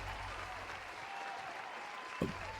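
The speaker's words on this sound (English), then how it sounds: "Round of applause." Steady applause fills the whole stretch, a dense even clapping from a crowd with one brief bump near the end.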